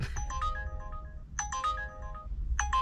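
An Uber Eats new-order notification rings on a phone in a parked delivery car in Cholet: a bright, repeating ringtone phrase that sounds three times in a steady rhythm, close and clear over a low engine or road rumble.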